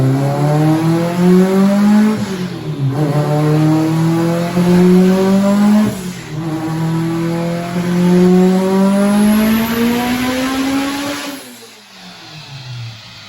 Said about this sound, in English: it's spinning the tire on the dyno, so we're trying to put a little extra weight in there.